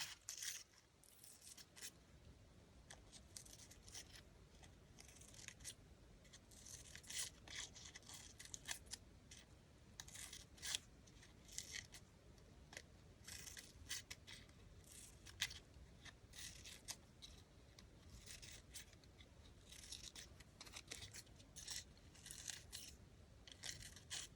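Scissors snip through paper shopping receipts in quick, irregular cuts, crisp and close but quiet, repeating throughout with small pauses between runs of snips, no talking.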